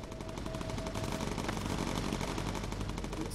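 Rapid machine gun fire from bomber gunners in Bomber Crew, a dense, continuous rattle of shots throughout, loud and unbroken with no voices.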